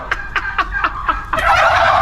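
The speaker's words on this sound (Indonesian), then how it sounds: "Kalkun akan berkokok dengan suara yang unik untuk menarik perhatian pasangan." Turkeys gobble in five quick rippling bursts, loud and close, followed by a burst of noisier calling from the flock.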